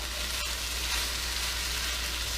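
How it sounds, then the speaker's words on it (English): Steady, close sizzling of shrimp stir-frying in a hot pan for fried rice, a continuous crackling hiss with no voices. "So I'm stir frying the shrimp."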